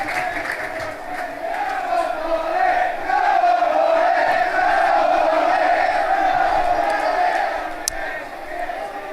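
A football stadium crowd at a Barnet versus Dagenham & Redbridge match roars and chants in a loud sustained swell that peaks in the middle and eases toward the end.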